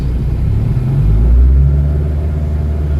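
A Honda Fit with a CVT transmission drives on a highway, giving a steady, loud low rumble of engine and road noise with a slight swell in the middle.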